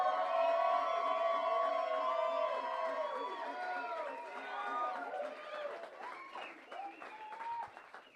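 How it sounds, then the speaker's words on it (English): An audience at a live event claps and cheers, a steady wash of applause under a voice speaking over it, thinning out toward the end. "channel everything you've just thought about into some heartfelt applause and support"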